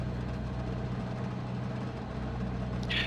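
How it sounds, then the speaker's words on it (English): A light aircraft engine holds a steady, loud drone before takeoff, a continuous low hum that runs unbroken from start to end. "We'll just do an engine run up right here"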